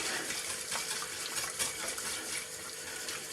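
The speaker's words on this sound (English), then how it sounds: "Keep with the whisking." A whisk swishes steadily through fish pie sauce as hot milk is added, making a continuous close, soft, watery rush without pauses.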